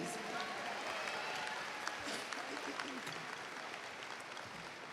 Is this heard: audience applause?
yes